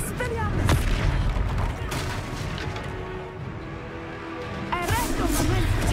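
An Expelliarmus spell strikes in the Hogwarts Legacy video game, with a sharp booming impact at the start, a rumbling battle bed in between and another crashing burst near the end, under game voices.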